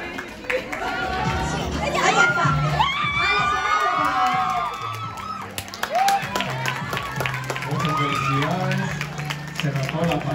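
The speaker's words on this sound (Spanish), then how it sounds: "Fuerte los aplausos, por favor." Audience at a K-pop random play dance festival awards in Bolivia applauds a winner, a dense wash of clapping, cheers and excited shouts, some youthful, with an announcer's voice over the crowd.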